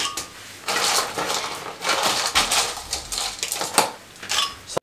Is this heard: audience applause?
no